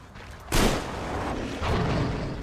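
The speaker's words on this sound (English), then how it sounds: "Grenade!" A grenade blast in the post-apocalyptic shooter Metro Exodus: a sudden loud boom at about half a second that rolls off, followed by a second swell of rumbling gunfire-like noise, with no talk.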